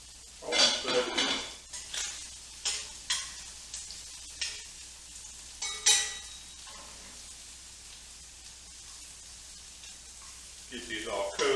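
Milky butter spits and sizzles in a hot pan, with a soft frying hiss broken by sharp, irregular pops and crackles at close range. A voice talks at times.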